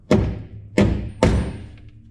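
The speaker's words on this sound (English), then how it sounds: "and with the use of a hammer," Three sharp hammer blows drive threaded inserts into a wooden board, each a close, solid thud followed by a short decay, spaced roughly half a second apart with quiet between.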